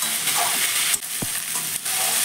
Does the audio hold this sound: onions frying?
yes